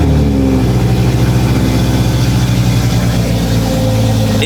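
Toyota GR Supra with a catless downpipe and otherwise factory exhaust, idling high and loud after a cold start, a steady deep droning rumble with slight wavering in pitch throughout.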